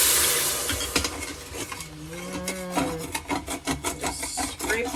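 A utensil scrapes the bottom of an Instant Pot while a chuck roast is being made, giving a steady run of close, rasping strokes with a few faint squeaks partway through, and no speech.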